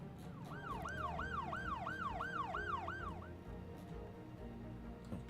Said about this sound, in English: They're waiting on an ambulance